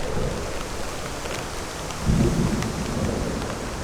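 Thunderstorm in Utah, heavy rain hissing steadily on surfaces with a deep rumble of thunder swelling about halfway through, close and enveloping with no talk.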